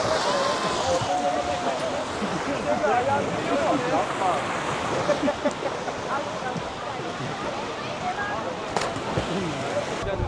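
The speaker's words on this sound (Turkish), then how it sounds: "biraz deniz dalgalı" Choppy sea waves wash and splash steadily against a constant rush of wind at a pier at Gökçetepe Nature Park, Edirne, with a voice talking faintly in the background.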